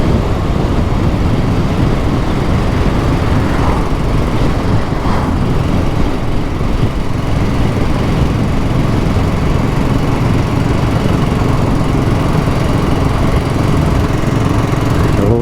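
BSA Goldstar motorcycle engine while riding: a steady, loud, continuous engine roar at constant throttle with no breaks, running unbroken throughout.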